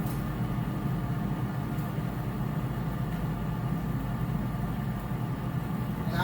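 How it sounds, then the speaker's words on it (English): An air fryer runs steadily in a home kitchen during pasta sauce making, a constant low fan-like hum and whir at moderate level with no talking. "if you hear that noise in the background, is my air fryer"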